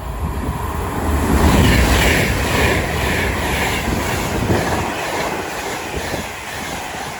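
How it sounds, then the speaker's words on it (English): An Avanti West Coast express from London Euston to Edinburgh rushes through Watford Junction on the West Coast Main Line, a loud continuous roar with rhythmic wheel clatter, peaking early then holding steady as it passes close by. "Soon to pass through now will be a Avanti West Coast service from London Euston to Edinburgh"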